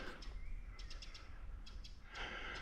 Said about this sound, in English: Can hear some birds in there.